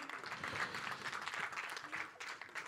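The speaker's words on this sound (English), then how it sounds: "big round of applause from Runal and Shahid Kapoor" A crowd at the Jersey trailer launch event claps for Mrunal Thakur and Shahid Kapoor, a steady, dense wash of applause lasting the whole stretch, heard from a distance and fairly soft.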